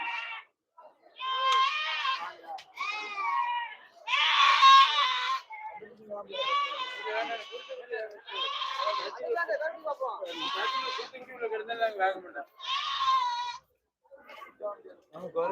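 Goats bleat at a Friday goat market in Ettayapuram, with loud, close, repeated bleats coming in quick bursts and short pauses between calls.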